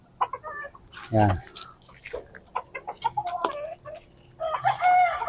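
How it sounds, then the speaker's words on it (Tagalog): Hens on a chicken farm cluck in short bursts, fairly close and loud, with a sharp louder squawk near the start, while someone talks over them. "Yan yung mga inahin na maganda."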